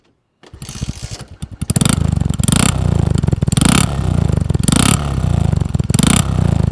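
A Suzuki GAG 50, a small fully manual motorcycle, fires up after a brief silence and settles into a loud, close, buzzy running note with several surges of revving.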